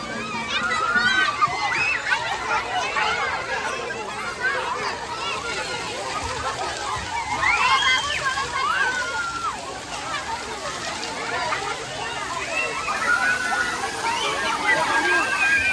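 Water splashes and sloshes continuously in a children's fountain in a park, with children's shrieks and chatter mixed through the steady spray.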